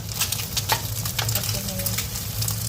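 Eggs frying in a pan make a steady crackling sizzle with scattered pops and light spatter, close and clear for a few seconds, with faint background voices.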